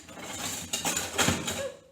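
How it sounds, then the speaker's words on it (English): A regular fork whisks an egg in a small bowl, giving quick, close metallic taps and scrapes against the bowl over about two seconds. "I'm going to get a fork, and I'm just going to use that to whisk"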